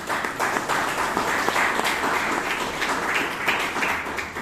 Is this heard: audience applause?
yes